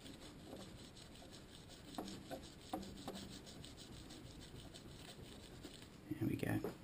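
Hand polishing of an etched aluminium blank, done by hand rather than on a lathe: soft, repeated rubbing strokes, fairly quiet and close, with a brief louder scuff near the end.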